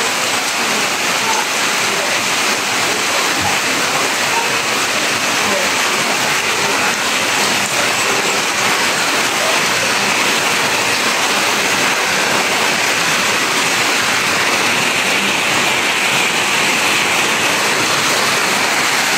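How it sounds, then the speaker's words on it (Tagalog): Heavy rain pours down in a loud, dense, unbroken roar that holds steady throughout, with no voices. "So medyo lumalakas yung ulan guys"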